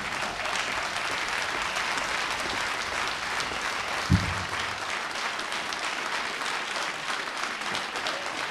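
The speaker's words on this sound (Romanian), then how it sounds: "Doamne și domnilor, nu vă opriți din aplauze." Sustained audience applause fills a hall at an awards gala, a dense even wash of clapping with a single low thump midway, steady and unbroken throughout.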